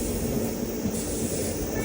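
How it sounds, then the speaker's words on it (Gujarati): Onboard the Rajkot-Coimbatore Express near Surendranagar junction, a train rolls past the Janmabhoomi Express, giving a loud, continuous rumble of wheels on rails with a faint metallic hiss throughout. "જન્મભૂમિ એક્સપ્રેસ છે, જેને આપણી ટ્રેને ઓવરટેક કર્યો છે."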